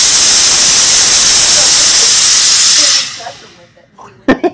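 A Laurastar dry steam iron lets out a loud, steady hiss of steam for about three seconds, then cuts off, followed by a few faint knocks and clicks.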